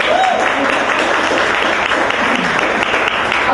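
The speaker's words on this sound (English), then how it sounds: "Let's just pause and have a round of applause for it." Audience applause for a musician, a loud, continuous wash of many hands clapping throughout, with no pause.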